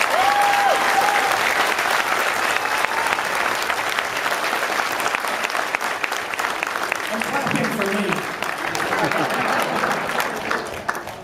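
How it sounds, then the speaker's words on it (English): An audience at a Walking Dead panel at Arizona Comic Con 2011 gives a long, sustained round of applause, loud and even throughout, with scattered voices and cheers beneath it. "let's give them a round of applause"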